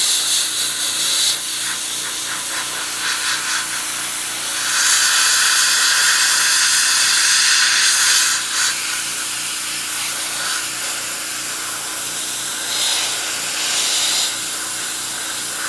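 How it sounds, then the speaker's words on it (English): Airbrush at roughly 17 psi spraying 70-30 thinned paint onto a Tamiya Panther Type G model, giving a steady close hiss that swells in bursts between quieter stretches, with no talking. "the pressure on the airbrush compressor is about 17 pounds"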